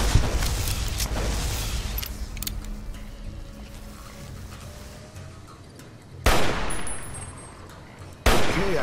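Gunfire in the video game Fallout New Vegas, a dense, continuous stretch of shooting and booming impacts throughout, with two sharp loud blasts near the end, no talking.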